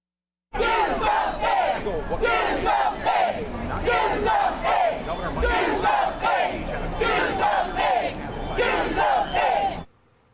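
A large crowd shouts and chants in rhythmic bursts at the Republican governor of Ohio, loud and close, repeating roughly every second before cutting off abruptly.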